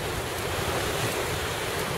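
Wind and waves at sea aboard a boat heading toward Matsuyama, Shikoku, on a blue, breezy day: a dense, steady roar of surf and wind buffeting the microphone, loud and unbroken.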